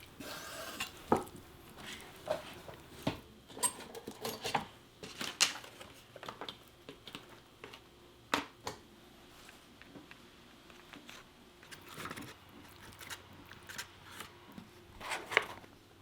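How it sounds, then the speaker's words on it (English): Food for a Korean lunchbox is cut into bite-sized pieces in a quiet kitchen: irregular crisp snips and chops spaced across the span, close and moderately loud, without talk. "And cut into bite-sized pieces."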